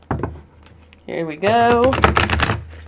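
A tarot card deck is riffle shuffled in quick, close crisp clicks, with a person speaking briefly near the start and a higher voice talking over the later shuffling.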